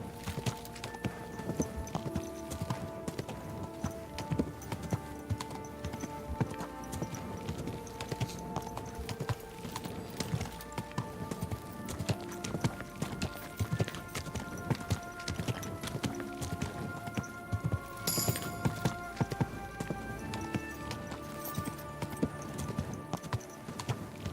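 Horse hooves clip-clop on a hard surface in a steady, busy rhythm, with bright jingling and clinking mixed in throughout.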